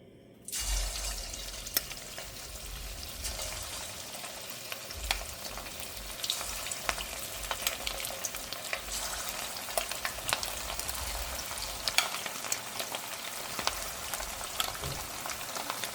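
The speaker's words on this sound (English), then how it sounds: "we'll start frying our meatballs" Meatballs sizzle steadily in hot oil, a continuous crackling fry with small pops and spatters throughout, close up and fairly loud, no voices.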